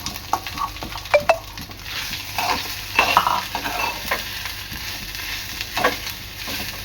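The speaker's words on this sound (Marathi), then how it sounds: "मी दोन मिनटं परतून घेणार आहे" Potato pieces for fasting batata vada sizzle in hot oil in a pan while a spoon stirs and scrapes them, giving close, intermittent clinks over a steady fry.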